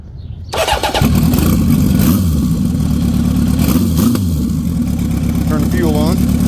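A fully tuned Honda CB750 Turbo motorcycle engine cranks for a moment, then fires into a loud, steady idle with a couple of blips of revving, close by, with a voice briefly over it.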